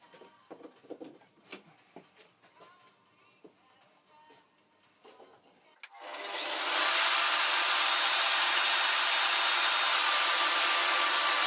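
A woodworking dust collection system switches on partway through and then roars steadily and loudly after quieter workshop sounds.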